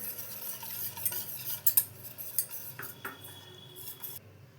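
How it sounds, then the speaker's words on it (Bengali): Gram flour, salt and turmeric are whisked with water in a bowl for a prawn chop batter, making soft quiet stirring and sloshing with a few light clinks of a spoon against the bowl, close and faint, then tapering off. "জল দিয়ে এটা আমি গুলিয়ে নিচ্ছি।"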